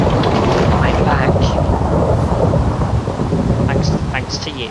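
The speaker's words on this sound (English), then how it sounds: "And it's flipping raining!" Heavy rain and rolling thunder in the Minecraft Bedrock Edition video game form a loud, dense, continuous roar throughout, easing slightly toward the end.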